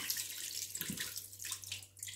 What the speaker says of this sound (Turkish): Güzelce ne bir sudan geçiriyorum.